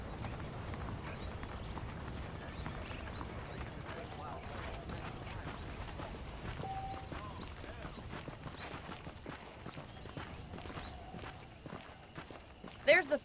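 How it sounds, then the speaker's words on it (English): Horse hooves walking at a steady clip-clop in the Western video game Red Dead Redemption, with soft ambient game sounds and voices in the background. "The horses are saddled up over here."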